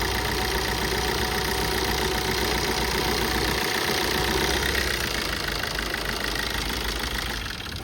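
A 2014 Maruti Suzuki Swift Dzire VDI's 1.3-litre diesel engine idles steadily nearby, a constant low rumble with knocking clatter that fades slightly at the end.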